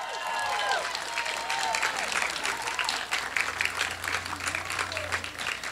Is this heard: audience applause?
yes